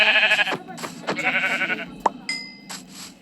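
Sheep bleating close by, a few wavering calls in quick succession with brief pauses between, mixed with a faint bell-like ding and someone talking.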